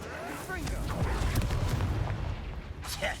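The Confringo explosive curse goes off in Hogwarts Legacy as a booming, rumbling fiery blast with crackling debris. A voice speaks over the sustained roar, and a brighter hit lands near the end.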